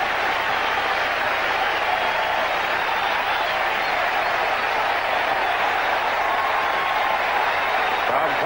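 Ballpark crowd at a 1981 Brewers playoff game clapping after a strikeout, a broad, continuous roar of applause and crowd noise that stays level throughout, with faint talk mixed in.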